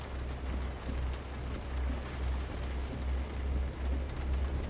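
Steady rain falling in the trucking game American Truck Simulator, a constant soft hiss with low rumble underneath, continuous and even throughout with no voices.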